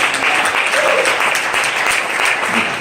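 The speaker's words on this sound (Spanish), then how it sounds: "Denle un aplauso al Señor, hermano." A church congregation claps for the Lord during a Spanish-language sermon, a dense, steady wash of applause filling the whole moment at close range, with no one speaking over it.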